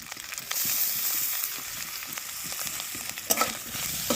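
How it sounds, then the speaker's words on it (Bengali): Dried fish fries in a pan with turmeric and salt, a steady oily sizzle with occasional stirring scrapes and a sharper clatter partway through, close and fairly quiet. "এখানে শুকি মাছ ভাজা করছে"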